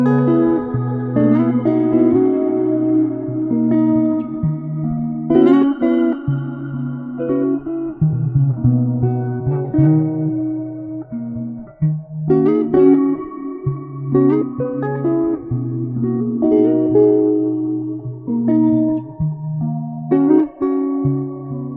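A clean guitar plays a slow, repeating melodic figure with plucked notes and sustained chords, washed in lush reverb that leaves trailing echoes. The tone is steady and moderately loud, with no voices.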